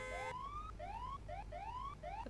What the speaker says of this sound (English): What are you sounding your sirens for?